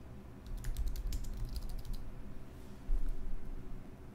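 A report name is typed on a computer keyboard, a quick run of light key clicks for about a second and a half, followed by a quieter pause with one soft tap, all close and alone.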